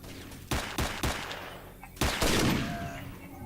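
Gunfire in a 2009 STALKER Shadow of Chernobyl mod, a handful of sharp, punchy shots in quick succession followed by a louder burst that rings out and decays.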